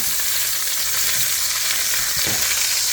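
Chicken browning in a pan for a one-pot chicken and rice dish, a steady close sizzle and fry crackle with no voices.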